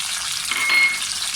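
Gram flour hits hot ghee in a pan and sizzles continuously, a close, dense frying hiss with a slight swell as it is stirred, no voices.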